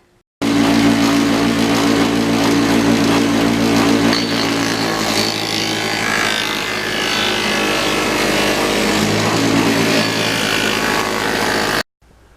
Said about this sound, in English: I'm going to cut my little carbon fiber reinforcement piece here